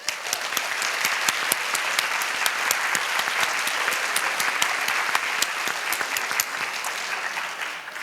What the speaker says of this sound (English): So let's applaud very warmly everyone's presence,